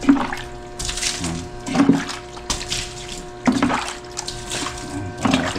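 Water poured over people to rinse sand off their bodies, coming in several splashing bursts of pouring and running water with gaps between them, fairly close.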